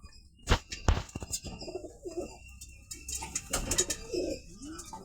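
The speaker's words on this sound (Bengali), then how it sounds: "এটা বড় কবুতর," Pigeons coo in low, repeated murmurs close by, with a few sharp flutters or knocks early on and faint background chirps, while the birds are fed rice.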